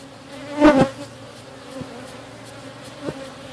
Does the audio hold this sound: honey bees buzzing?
yes